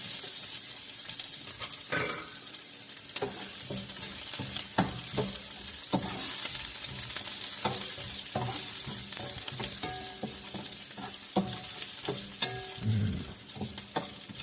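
Sliced Anaheim peppers and garlic sizzle steadily in a hot pan, loud and close, with the frying hiss broken by the scrape and clink of stirring against the pan.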